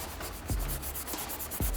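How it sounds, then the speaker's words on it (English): Steady abrasive rubbing of sanding on an aluminum Honda Civic EM1 Si wheel, continuous scratchy friction with a couple of soft thumps, close and fairly quiet. "just keep polishing"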